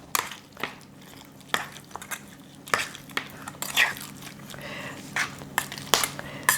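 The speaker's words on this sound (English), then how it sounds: "And we mix it up real good." Stuffing for bitter melon, seasoned with sugar and sesame oil, is mixed in a bowl: irregular wet squishes and soft knocks of a spoon or hands against the bowl, fairly close and quiet.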